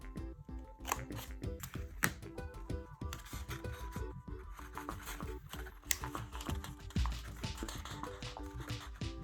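Scissors snip through paper while cutting pieces for a big paper robot puppet, a run of quick, close crisp cuts and rustles in an irregular rhythm, without speech.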